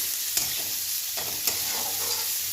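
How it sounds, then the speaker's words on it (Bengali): Onions and potatoes fry in a pan for a noodle breakfast, giving a steady close sizzle broken by a few sharp stirring scrapes. "পেঁয়াজ আর আলু ভাজা ভাজা মতন করে নিই"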